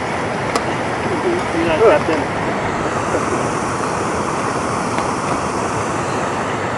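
Broad steady rushing of a river during a cycling river crossing, mixed with wind buffeting the microphone, constant and loud throughout with a brief bump of handling noise.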